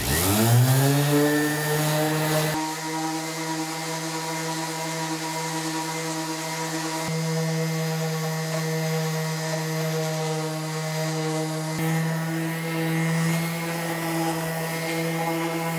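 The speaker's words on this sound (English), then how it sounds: "then I like to use 220 grit on the random orbital sander just to smooth everything out" A random orbital sander fitted with 220 grit paper smooths wood filler on an arcade cabinet build, giving a loud, steady motor whine with a sanding hiss that holds level from start to finish after a brief spin-up.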